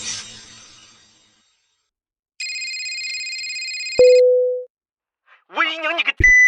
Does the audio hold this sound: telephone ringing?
yes